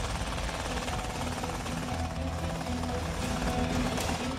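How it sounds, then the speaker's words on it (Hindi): Continuous heavy rotor thump and engine drone of a Light Utility Helicopter flying close by, loud and steady throughout with no pauses. "ये लाइट यूटिलिटी हेलीकॉप्टर धीरे धीरे चीता और चेतक की जगह लेगा"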